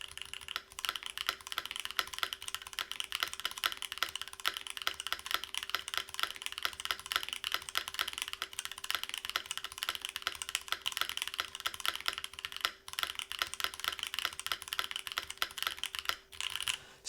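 Steady typing on an HHKB-layout mechanical keyboard with a thick plate and stock-lubed switches, a dense close run of crisp key clacks at a quick even pace, alone without talk.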